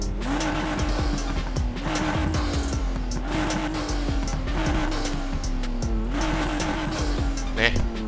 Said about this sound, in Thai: ชอบ เสียงเครื่องยนต์ตัวนี้ครับ